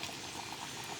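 Beef curry broth with potatoes simmering in a pot, a soft continuous bubbling and faint gurgle close by, steady and quiet with no voices.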